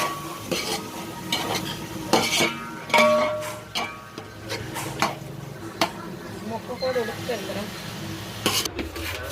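A chicken biryani mixture stirred in oil in a pot, with uneven scraping and clinking strokes of the spoon over a soft sizzle, and a voice heard faintly at times.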